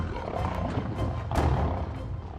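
A lion charging at night lets out a deep, rumbling roar with several throaty surges, loud and close, the strongest burst near the middle.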